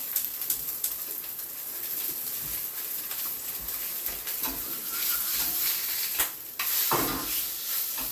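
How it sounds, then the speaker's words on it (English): A sausage patty fries in a thin coat of oil in a pan over low heat, giving a soft, steady sizzle with a few small pops and crackles. "Now in that time we've just got this lovely sear on our sausage patty."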